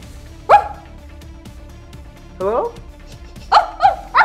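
A dog heard from a distance in a quiet room: one short bark, then a rising whimpering yelp, then two more quick barks close together, with a voice speaking briefly.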